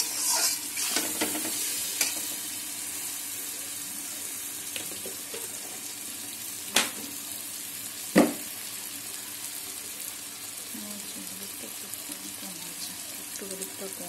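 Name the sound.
frying and stirring spice masala for mutton curry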